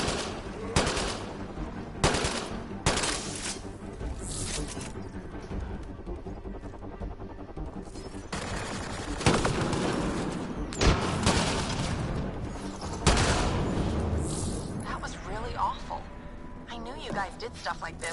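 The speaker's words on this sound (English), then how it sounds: "It's a designated marksman rifle, not a fucking sniper." Designated marksman rifle fire in Mass Effect Andromeda, with sharp repeated shots and bursts in an irregular rhythm during a loud firefight, with a voice speaking between volleys.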